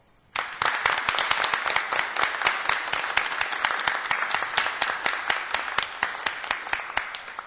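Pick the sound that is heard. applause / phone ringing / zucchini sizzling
applause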